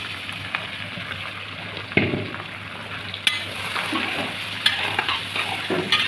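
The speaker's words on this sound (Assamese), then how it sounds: "পিঁয়াজখিনি ৰঙা হোৱালৈকে অলপ লৰাই লওঁ।" Onions frying in hot oil in a pan for duck bhuna, a steady sizzle broken by several sharp scraping stirs, close and moderately quiet.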